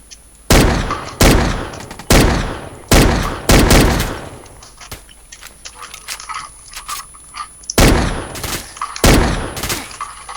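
Loud automatic shotgun blasts from a video game, about seven sharp booming shots fired in quick bursts with short gaps, then quieter scattered game noise between them.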